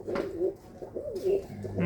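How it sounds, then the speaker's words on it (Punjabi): Pigeons in a loft of costly breeds coo in a close, repeated series of soft throaty rolling calls, each rising and falling under a quiet background. "ਉਹ ਪਿੱਛੇ ਜਿਹੜੀ ਕਬੂਤਰੀ ਬੈਠੀ ਉਹ ਕਿਹੜਿਆਂ ਚੋਂ ਖਟੀਆਂ ਦੀ ਉਹ ਰਾਜਨ ਵਾਲਾ ਉਹ ਰਾਜਨ ਵਾਲਿਆਂ ਦੀ ਹੈ"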